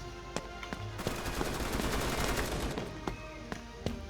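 Dense bursts of rapid gunfire from the Pixel Strike 3D shooter game, loud and close, rattle through the whole stretch with a few single sharp shots at the edges.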